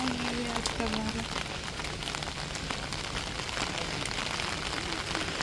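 Rain pours at a temple where worship goes on, a loud, dense patter of drops hitting surfaces close by, with a brief voice heard early on.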